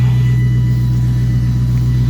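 A Mustang's engine and exhaust rumble steadily with a deep, bassy idle, close and loud, with no voices.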